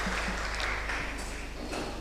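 Audience applause at a healthcare conference on artificial intelligence, a continuous patter of many hands clapping at moderate loudness, with a few sharper claps and faint tonal pings mixed in.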